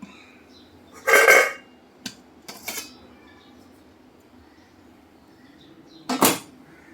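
Metal clanks and scrapes as an idli stand is lifted out of a pressure cooker: one loud clatter, a few light knocks, then another metallic clang.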